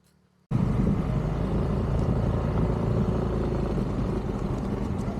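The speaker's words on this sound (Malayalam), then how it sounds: "അങ്ങനെ നമ്മൾ എയറോക്സ് 155നെ ഓടിച്ച് തുടങ്ങുകയാണ്." A Yamaha Aerox 155 maxi-sports scooter with a 155cc single-cylinder engine sets off after a brief quiet moment, its engine droning steadily with low rumble and road noise, close and loud.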